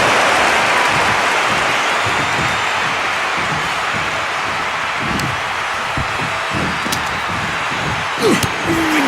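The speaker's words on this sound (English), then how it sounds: "Listen to this crowd." A large WrestleMania arena crowd in WWE 2K25 roars and cheers continuously, a dense wall of noise with scattered claps and shouts throughout.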